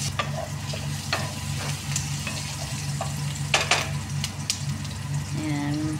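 Ground garlic sautéing in a pan gives a steady close sizzle with scattered clicks and scrapes of stirring, a spoon tapping and scraping the pan at intervals, alone without voices.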